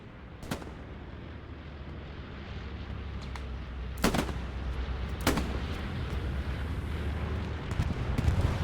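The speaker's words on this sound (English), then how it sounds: "Another bombing run here." Bombing run in the video game Hell Let Loose: a low continuous rumble of distant explosions, with several sharp, loud blasts or shots standing out at intervals.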